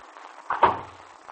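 An office door is pushed shut with a single soft thud and brief rattle, fairly quiet in an otherwise still room.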